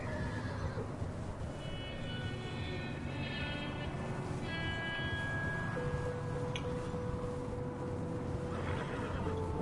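Horse whinnying in Red Dead Redemption 2, several drawn-out neighs over steady game ambience while riding across open country, moderately loud and with no talk.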